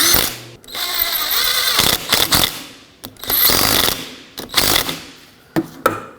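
A hand ratchet snugging bolts on a wiper motor assembly for a 2007-2009 Saturn Aura, with close, loud runs of rapid clicking broken by brief pauses and a few sharp metallic knocks.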